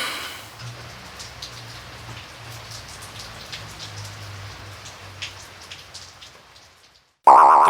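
Steady rain falls outdoors on a wet hillside at Croft Hill, Leicestershire, a dense continuous hiss with scattered drops under a faint low rumble, cut off near the end by a sudden loud tone.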